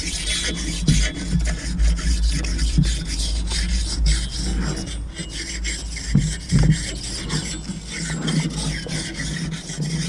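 Hand file scraping the burr off the edges of a Stihl MS880 chainsaw bar, a rough rasping stroke repeated steadily at close range with occasional knocks and no talking.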